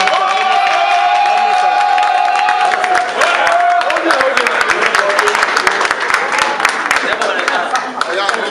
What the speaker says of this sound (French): si vos applaudissements, s'il vous plaît